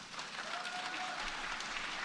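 Applause from an assembled audience after Greta Thunberg's climate speech, a soft, distant wash of clapping running throughout the short moment before cutting off.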